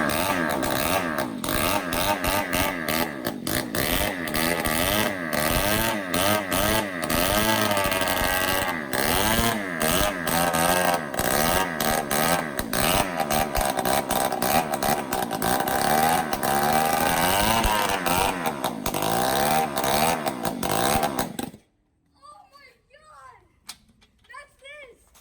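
A Yamaha PW80 dirt bike, run for the first time after years of not working, roars loudly and close with a raspy revving two-stroke engine for about 21 seconds, then cuts off, leaving brief quiet talk.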